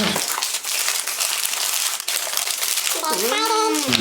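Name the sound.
unwrapping a fragrance package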